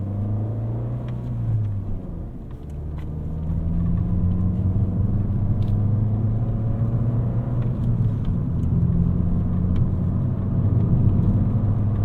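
A 2018 Fiat 500 Pop pulls away uphill from a standstill, its small engine rumbling low and rising in pitch through the revs, with a steady drone and road noise heard from inside the cabin.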